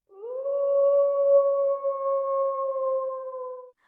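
A single long, steady wolf howl with a clear rising onset, held for several seconds before trailing off, alone with no other sounds.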